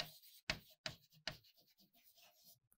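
Chalk or marker strokes on a lecture board, a few sharp taps followed by scratchy rubbing strokes, close and fairly quiet with no talk.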